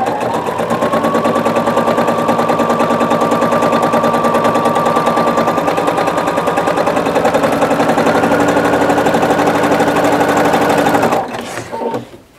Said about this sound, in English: Now you're going to stitch to where you get 2 inches away from the next 2 sides down by the corner.